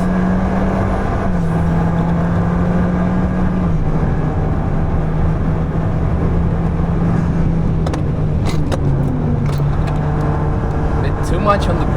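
An Alpine A110 sports car drives along with a steady engine drone and road roar heard from inside. The pitch shifts as it slows under hard braking, with a few sharp clicks and knocks near the end.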